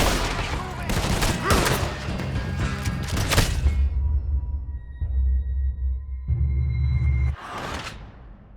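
Gunfire erupts in a camp during Red Dead Redemption 2 gameplay, a dense burst of overlapping shots for several seconds followed by heavy low rumbling and a final sharp crack, loud and close.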